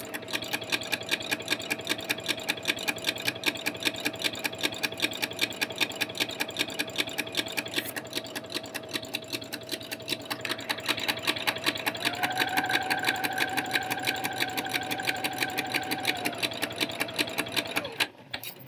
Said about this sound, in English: we're just going to stitch all the way down to the hem at the bottom of the t-shirt